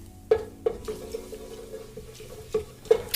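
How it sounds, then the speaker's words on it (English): Cumin seeds stirred in hot oil in a pan for a village pilau, with a faint sizzle under several distinct knocks and scrapes of the spoon at uneven intervals. "your oil is heating, you add maybe a little bit, half spoon of cumin seeds for taste and aroma. So you stir."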